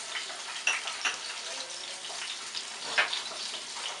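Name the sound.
tofu frying in a pan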